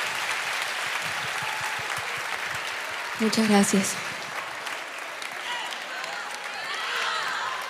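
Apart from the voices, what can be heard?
concert audience applause for string musicians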